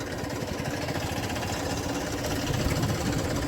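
A Massey tractor engine runs at a steady mid-pitched throb, close and continuous with rhythmic knocking, swelling slightly louder toward the end.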